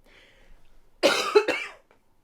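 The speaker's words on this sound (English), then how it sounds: "I'm hoping next week's videos will not contain coughing." A person coughs twice in quick succession, with harsh, close, fairly loud bursts about half a second apart, while recovering from an illness during a mixed-media art session. Quiet room tone comes before and after.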